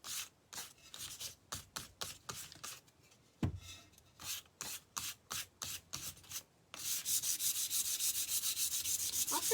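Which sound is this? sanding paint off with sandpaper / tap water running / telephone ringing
sanding paint off with sandpaper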